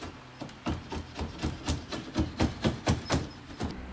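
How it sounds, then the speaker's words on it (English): Old paint is scraped off the wood of a vintage Viscount caravan in a rhythmic series of about a dozen close, rasping strokes that grow stronger across four seconds, with no talk. "a scraper works too"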